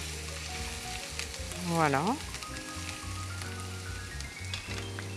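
Garlic added to hot oil sizzles in a steady, close hiss, swelling briefly as it goes in, with background music playing throughout and a short spoken word.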